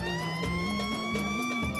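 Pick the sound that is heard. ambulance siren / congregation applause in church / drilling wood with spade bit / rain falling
ambulance siren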